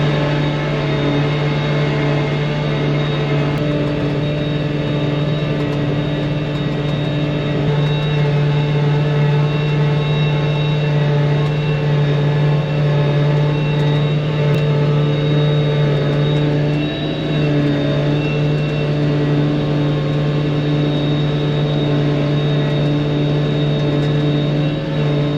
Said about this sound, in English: I'll start the chopper.